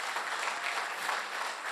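Church congregation at a Christmas service clapping together, a dense, even patter of applause heard at moderate distance and fairly faint.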